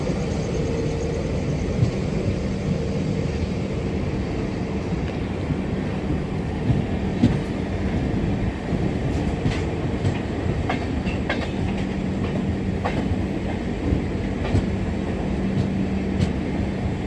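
The Saurashtra Mail Express runs on rails near Dadar on the Rajkot to Mumbai Central route, heard from inside as a steady, loud rolling rumble with faint clicks over the track, and no talking.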